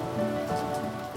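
A summer rain shower patters steadily on surfaces outdoors, a dense continuous hiss of drops at moderate loudness with no voices.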